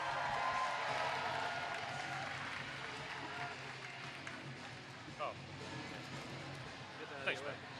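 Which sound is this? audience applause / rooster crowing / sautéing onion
audience applause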